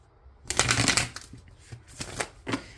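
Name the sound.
shuffling tarot cards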